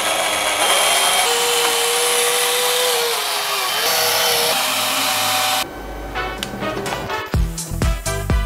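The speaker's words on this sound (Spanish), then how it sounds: "Deberíamos primero lijar la bola un poco para que pegue mejor." A homemade disco ball is sanded with a power tool, a steady motor whine running close for about five seconds before stopping, followed by a few sharp knocks and handling clatter.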